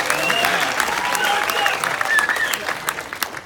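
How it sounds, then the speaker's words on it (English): A fan meet-and-greet crowd applauds steadily with scattered cheers and whoops rising above the clapping, sustained and fairly loud throughout. "Please make some noise for Zachary Levi"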